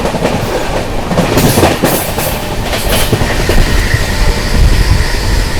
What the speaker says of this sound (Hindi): अपनी हावड़ा राजधानी एक्सप्रेस स्किप करने जा रही है जीवनाथपुर रेलवे स्टेशन